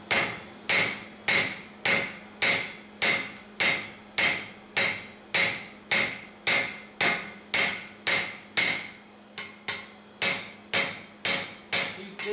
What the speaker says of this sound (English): make sure your hammer hits there all the time